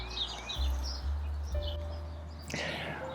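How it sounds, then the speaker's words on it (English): Small birds chirp in a cozy cottage garden, scattered high tweets drifting in and out over low rumbling background noise, with a brighter burst of calls near the end. "Here comes the birds."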